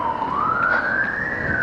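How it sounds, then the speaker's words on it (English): An ambulance siren sounds as it passes close by along a street, one steady rising wail that stays loud from start to finish. "another ambulance."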